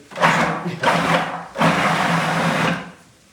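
A blender pulses a black bean burger mixture in three short, loud bursts, two brief ones and then a longer whir, with a steady motor hum under each.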